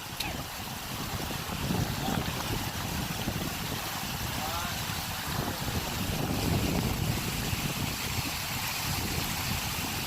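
Strong wind buffets the microphone continuously on a hiking trail in the 100 Mile Wilderness, a roaring rumble that hardly lets up.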